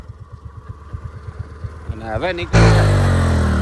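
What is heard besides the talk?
Activa scooter engine while stuck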